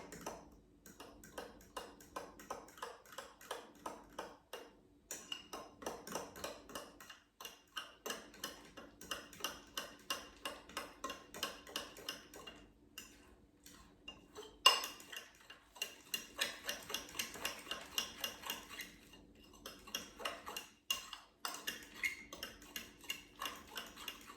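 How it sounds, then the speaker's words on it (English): Utensil clinking rhythmically against a mug while stirring banana bread mug cake batter made with coconut flour, a steady run of light taps with brief pauses, close and alone with no voices. "once you add all the ingredients, let's mix until combined"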